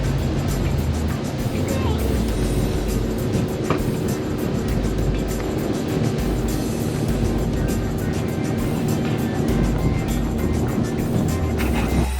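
A fishing boat motor runs steadily at speed on the water, a loud continuous engine roar with wind and hull noise filling the whole stretch without letup.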